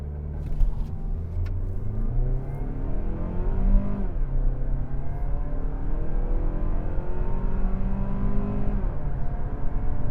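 A Mazda CX-30 in sport mode accelerates hard from a standstill to 60 mph after a brake-torque launch. The engine drone rises steadily in pitch through the gears, with brief dips at each upshift, heard from inside the cabin.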